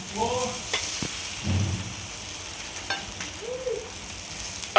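Bottle gourd and spinach dhapate frying in oil on a pan, a continuous soft sizzle with a few stirring and utensil knocks, close up and without talk.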